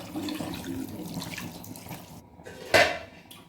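Water poured into a pot of mutton kofta, a gurgling, splashing pour that builds and then ends in a short bright clatter near the close, with no talking.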